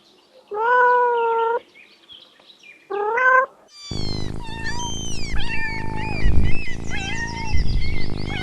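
A cat gives two separate drawn-out meows, clear and close, and a busier stretch of mixed sounds with chirpy calls follows.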